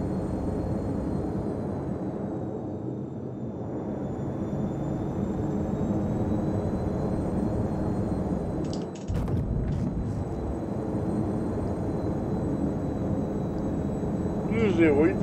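Anvil Terrapin ship in flight in the Star Citizen video game, a steady broadband engine rumble and whine held throughout while climbing, with a brief dropout and short tonal blips near the middle and a rise at the end.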